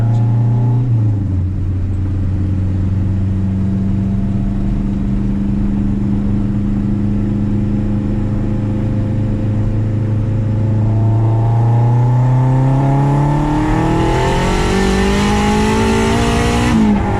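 A 500-horsepower turbocharged K24 car pulls hard on a street, its loud engine droning steadily before the pitch climbs sharply in a roaring rev near the end, with a faint whistle riding on top.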